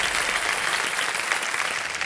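Steady, dense applause from a studio audience cheering junior child contestants on a televised quiz show, a continuous wash of clapping that holds evenly for about two seconds with no voices on top.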